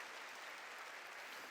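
A church congregation applauds in a dense, even wash of clapping with no pauses, heard from some distance and fairly quiet.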